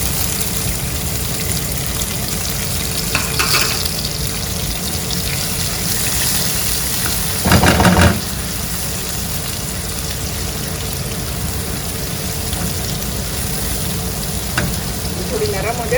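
Onions frying with spices on a tawa for restaurant-style kaleji masala, a loud, constant sizzle with a brief burst of louder crackling and stirring midway, close up and without talk.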